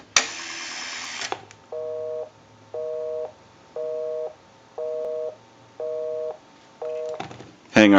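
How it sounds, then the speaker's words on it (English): Busy signal from a repaired Automatic Electric 3-slot payphone: six evenly spaced tone bursts with gaps between, clear and close, framed by brief handset clatter at the start and end. "We'll call my number and it'll be busy."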